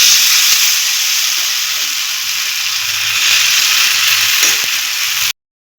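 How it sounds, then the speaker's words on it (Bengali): Batter sizzling steadily in hot oil, a loud continuous frying hiss with faint crackles and pops that runs evenly, then cuts off abruptly. "আগে তেলটা ভালো করে অবশ্যই গরম করে নিতে হবে, গ্যাসটা বাড়িয়ে গরম করে নিয়ে তারপরে ব্যাটারটাকে এর মধ্যে আমি আস্তে আস্তে ছেড়ে দেবো।"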